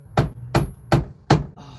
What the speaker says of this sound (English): you can hammer the middle